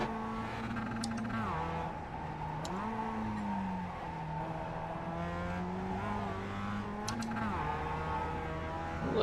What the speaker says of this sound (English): trying to let off the throttle a little bit on those upshifts so it doesn't hit the rev limiter blip